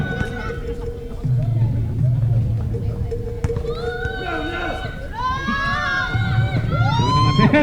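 Basketball crowd at a game between DG Hood and Underdoggz shouting and cheering loudly throughout, with excited children's cries and babble swelling in waves over a steady roar.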